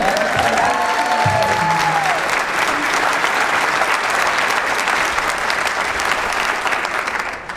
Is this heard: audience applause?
yes